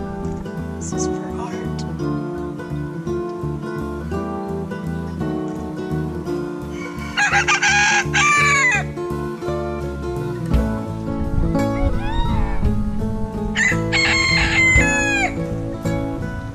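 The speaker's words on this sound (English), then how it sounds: "So many chickens!" Chickens clucking throughout over a busy backdrop on São Miguel in the Azores, with two loud rooster crows rising above the noise partway through and near the end.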